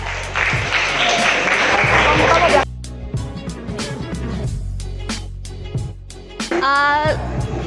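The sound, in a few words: audience applause for a student's answer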